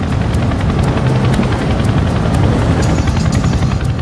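A Chinook helicopter flying low over the Antrim Hills gives a loud, steady rotor chop, its rapid, even blade thumps pulsing over a dense engine rumble with no break.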